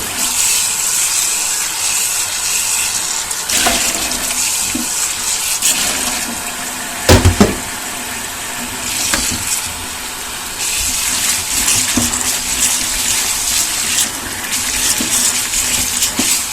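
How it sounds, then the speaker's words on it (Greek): Soaked wheat rinsed in a strainer under a strong stream of running tap water, a steady close gushing splash that continues throughout, with a brief louder clatter partway through. "θα ξεπλύνουμε με άφθονο τρεχούμενο νερό"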